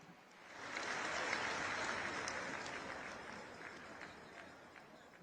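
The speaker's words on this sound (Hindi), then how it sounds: "एक बार जोरदार तालियां" Loud applause from a large crowd of women at a public event during a prime ministerial visit in Navsari, Gujarat, with dense clapping rising quickly, holding, then slowly easing off.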